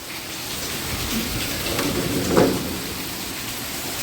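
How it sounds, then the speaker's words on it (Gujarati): Heavy rain pours in a constant dense hiss, with a brief dull rumble rising partway through. "અને વરસાદ જો કેવો આવે છે તમને બતાવું"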